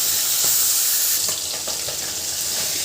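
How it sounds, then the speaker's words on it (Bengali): Fish fry in a hot pan, a loud, close, continuous sizzle with sharp crackles and spatters that flare up as pieces shift in the oil, with no talking. "এটাই আজকে মাছ ভাজা ছিল।"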